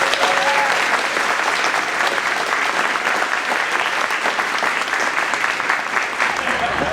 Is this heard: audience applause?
yes